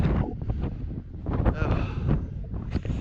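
Freezing wind buffets the microphone on a mountain ridge summit, gusting loudly in uneven roaring bursts, with a voice talking underneath.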